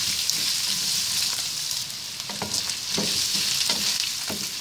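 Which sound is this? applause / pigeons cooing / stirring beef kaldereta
stirring beef kaldereta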